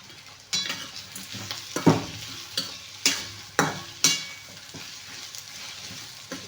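Stirring and frying in a clay pot: a steady sizzle runs throughout, broken by several sharp scraping knocks of a utensil against the pot at irregular intervals, close and fairly loud, with no talking.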